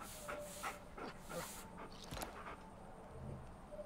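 A pet wolf in Far Cry Primal whimpering softly while being petted, with a few faint, short whines and light rustling, quiet throughout.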